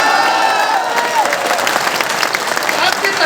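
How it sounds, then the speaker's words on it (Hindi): Audience applause at a Hindi comic poetry recital, a dense steady clatter of many hands filling the room for several seconds, with voices mixed faintly into the crowd noise. "आपकी तालियां कमजोर है मेरे भाई"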